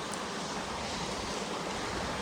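A river stream flows steadily past, a dense broadband rush of water with no breaks, close and fairly loud, with some wind noise mixed in.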